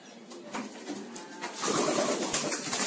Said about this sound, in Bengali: দেখতে পাচ্ছেন কবুতরগুলো দিয়ে সব রেস করা হয়, এগুলো রেসিং কবুতর।